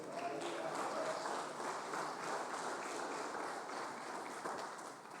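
A church congregation applauds steadily and fairly loudly, a dense, continuous wash of many hands clapping that fades slightly toward the end.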